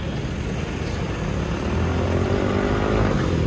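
Modified KTM Duke motorcycle engine running steadily and close, a continuous loud broadband roar with deep low rumble that builds slightly toward the end, no talk.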